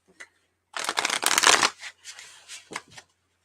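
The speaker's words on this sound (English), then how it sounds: "All right, Julia, one more shuffle" Playing cards are shuffled in one quick riffle, a crisp fluttering burst followed by a few lighter taps as the deck settles.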